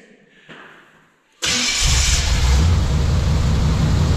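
A tow truck engine fitted with an EFI upgrade catches and runs, jumping from near silence to a loud, steady close-up idle rumble after a brief voice.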